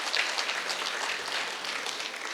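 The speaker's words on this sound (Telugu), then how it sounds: "మరొకసారి గట్టి క్లాప్స్ కొడదాం." A crowd at a meditation gathering claps firmly in a thick, even wash of applause that carries on without a break and with no speech over it.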